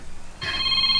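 A cellphone begins ringing partway through, a bright electronic ringtone cutting in sharply over a low background hum.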